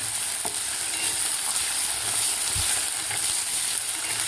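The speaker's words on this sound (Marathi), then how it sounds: "आता बटाटा आपल्याला व्यवस्थित तेलामध्ये फ्राय करून घ्यायचा आहे, थोडासा गोल्डन कलर होईपर्यंत" Raw potato pieces frying in hot oil for sabudana khichdi give a steady, dense sizzle that holds evenly throughout, close and fairly loud, with a few faint knocks beneath.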